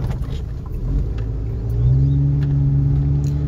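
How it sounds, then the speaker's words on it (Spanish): A pickup truck drives along a road with a loud, close engine rumble that rises into a steady, stronger hum as it picks up speed, with no voices. "Se maneja solo la camioneta."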